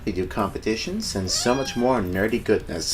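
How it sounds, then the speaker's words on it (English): A pet cat meows several times in short, rising and falling cries while a person keeps talking close to the microphone over it. "Yes, that's my cat, but that's alright."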